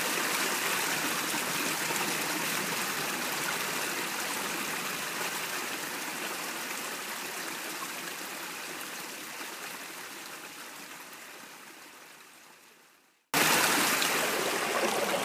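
Water pumped by hand through a Katadyn filter into a clear Nalgene bottle at a spring, a steady close rushing trickle that slowly fades, stops briefly near the end, then resumes loudly.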